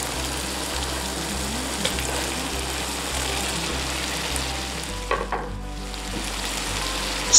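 Squash and onions hit a hot frying pan for black bean noodles, a steady loud sizzle that swells with a brief burst of crackling midway, close and continuous with no speech.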